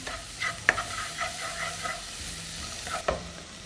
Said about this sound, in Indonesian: kita tumis sampai wangi